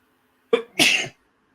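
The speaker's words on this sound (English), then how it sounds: "Yep, there's the sneeze." A single close sneeze: a short sharp intake followed by a loud, breathy burst, then silence.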